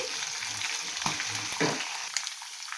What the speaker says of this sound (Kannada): ಒಂದು ಅರ್ಧ ಭಾಗದಷ್ಟು ಫ್ರೈ ಆದ ನಂತರ ನಾವು 1 ಗೆಡ್ಡೆ ಬೆಳ್ಳುಳ್ಳಿನ ಸಿಪ್ಪೆ ತೆಗೆದು ಹಾಗೆ ಜಜ್ಜಿ ಹಾಕ್ಕೊಳ್ತಾ ಇದ್ದೀನಿ